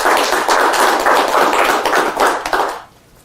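Live magic-show audience breaks into loud, steady applause, many hands clapping together for nearly three seconds before it drops away abruptly.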